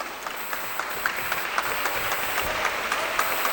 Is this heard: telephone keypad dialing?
no